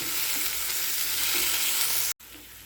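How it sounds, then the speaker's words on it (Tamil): Chopped coriander and mint leaves fry in a pan for a beef roast, giving a loud, steady sizzle with soft stirring and no talking. "இதில் மல்லி இலையும் புதினா இலையும் கட் பண்ணி வச்சுருக்கேன், அதையும் போட்டு நல்லா வதக்கி விடலாம்"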